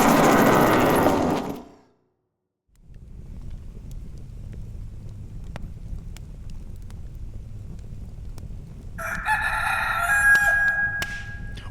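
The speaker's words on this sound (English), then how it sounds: "Wait, that's the morning time rooster." A rooster crows nearby, loud and alone for under two seconds, then a short silence gives way to steady wind noise and a later burst of bright tonal sound.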